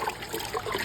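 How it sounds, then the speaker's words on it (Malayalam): A brief splash and trickle of water as raw beef is stirred and washed by hand outdoors for a village forest cook-up, soft and close. "നന്നായിട്ട് കൈകൊണ്ട് ഇളക്കിയിട്ട് കഴുകണം."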